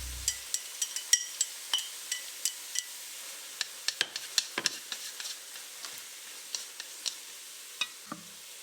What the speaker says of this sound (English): Next, add in the beaten eggs.